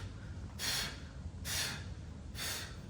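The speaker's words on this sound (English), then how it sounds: "they purse their lips and they kind of puff." Three slow puffs of air pushed out through pursed lips, evenly spaced about a second apart, soft, breathy and close with quiet pauses between.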